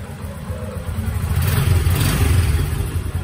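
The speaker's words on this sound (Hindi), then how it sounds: "फाइनली जी बाइक स्टार्ट हो चुकी है।" A motorbike engine runs steadily just after being started, a loud, close, continuous mid-pitched drone with slight rise and fall and no talk.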